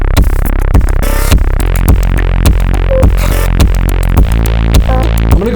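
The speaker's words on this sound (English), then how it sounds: "So our bass line sounds like this now." A Moog-sampled bass line plays from a Polyend Tracker Mini, loud and deep, with repeated plucky notes in a quick rhythmic pattern and sharp percussive clicks between them.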